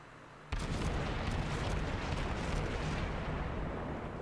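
Naval guns fire in World of Warships: a sudden heavy boom breaks in after a low hum and rolls on into a loud, sustained rumble with scattered sharper cracks.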